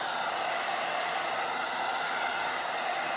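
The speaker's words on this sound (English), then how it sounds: "And a hairdryer on cool." A hair dryer on its cool setting blows steadily and loud, drying paste at a chalk workshop, with a continuous whooshing hiss and no talk.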